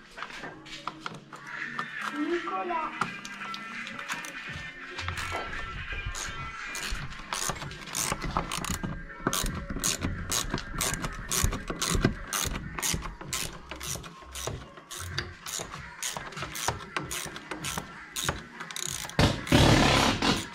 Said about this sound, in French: On retire les petits boulons d'un paquet de 7.